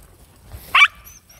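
A dog lets out a single sharp, high yelp after its leash is stepped on, close and loud against a quiet indoor background.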